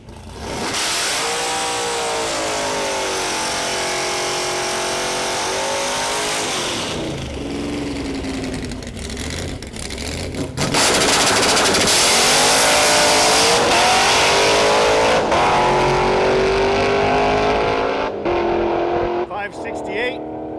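Slick-tyred race cars in a street car challenge accelerate hard, engines revving loud and near with rising pitch sweeps, a shift midway and a second surge of roaring exhaust continuing to the end.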